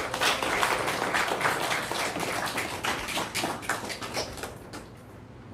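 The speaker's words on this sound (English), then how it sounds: "Round of applause for Pooja." A lecture audience gives a prize winner a round of applause, loose scattered clapping from a moderate crowd that fades out near the end.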